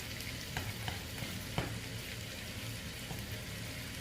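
Pork frying in a pan for spring rolls, with shiitake mushrooms, is stirred with soft scraping strokes over a steady low sizzle, quiet and close, with a sharper clink near the middle.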